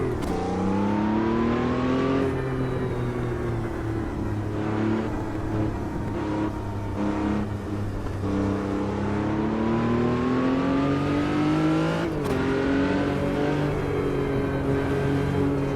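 Race car engine in the sim racing game Automobilista 2, loud and continuous, revving up through the gears with pitch climbing, dropping at shifts and climbing again, alone without talk.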